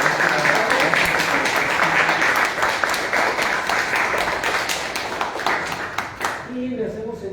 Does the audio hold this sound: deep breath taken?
no